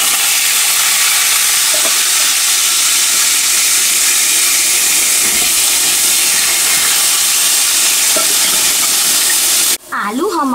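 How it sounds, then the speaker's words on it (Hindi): Potato pieces frying in a pan for mutton keema tahari give off a loud, steady sizzle and hiss, with faint stirring clicks under it and a brief clatter near the end. "हम इसमें अब आलू डाल रहे हैं फ्राई करने के लिए, ऐसे करके, और इस आलू को हम ब्राउन होने तक फ्राई करेंगे अच्छे तरीके से।"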